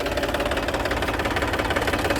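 A tractor engine runs nearby at a steady pace, a close, rhythmic knocking chug with a low vibrating rumble and no talk.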